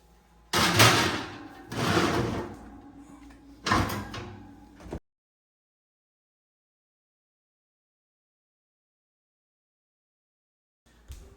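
A kitchen oven door opens and closes while a Blackstone griddle is seasoned inside, giving a few close, loud thuds and slides in the first five seconds, then silence and one faint knock at the end.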